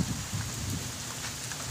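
Rain falls steadily outdoors on a ground, a soft continuous patter with a low rumble underneath, even and moderately quiet with no talking.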